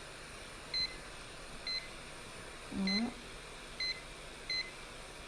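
Electronic timer beeping during the firing of precious metal clay, five short evenly spaced beeps, moderately loud over a low steady background hiss with a brief voiced sound in the middle.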